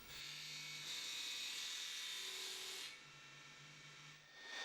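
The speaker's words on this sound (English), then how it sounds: "make a relief cut to prevent the tool from binding" Woodturning tool cutting into a wooden goblet spinning on a lathe, a steady close scraping hiss that swells in the middle and eases off near the end, with no voices.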